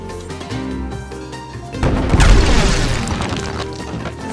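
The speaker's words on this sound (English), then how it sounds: "Use the action button to fire the cannon." An old cannon in the Skylanders: Spyro's Adventure video game fires at a wall, a heavy booming blast with a crashing tail that breaks in over light game music and rumbles away over a couple of seconds.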